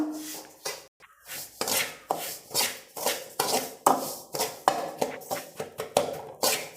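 A spoon or spatula scrapes and stirs semolina (rava) dry-roasting in a pan on low heat for masala upma, a steady run of rhythmic scraping strokes, close and fairly loud, with no voices.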